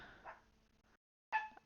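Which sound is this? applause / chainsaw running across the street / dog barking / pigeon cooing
dog barking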